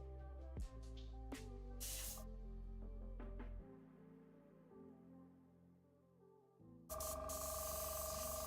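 An airbrush spraying paint on Warhammer 40k Dark Angels miniatures with weak airflow, giving short faint hissing bursts and sputters between quiet gaps, close up with no talk.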